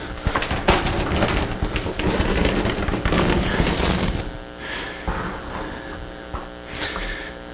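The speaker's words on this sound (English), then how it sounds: "I brought with me a whole bunch of coins." A handful of coins clinks and tumbles in a dense, busy jingle for about four seconds during a church revival service, then gives way to a quieter room with a low hum.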